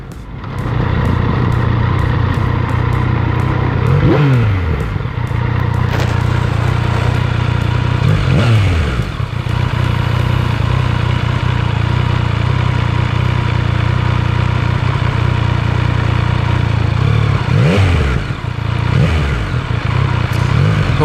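A Yamaha MT-09 motorcycle engine idles with a steady throaty rumble, blipped up in several sharp revs that rise and fall, loud and close.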